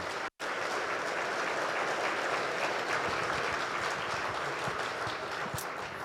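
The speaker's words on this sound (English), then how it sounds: "So let's give them a big round of applause." Steady applause from a conference audience after a panel on family office investing, even and sustained throughout apart from a brief dropout near the start.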